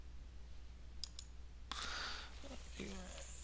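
Mouse clicks on Bring Forward in Google Slides, a pair of quick, close, crisp clicks, followed by someone talking over faint background hum.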